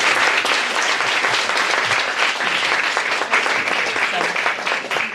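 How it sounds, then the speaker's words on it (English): A book launch audience breaks into dense, sustained applause, many hands clapping together close and loud without pause. "Another round of applause, please."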